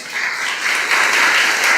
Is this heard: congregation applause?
yes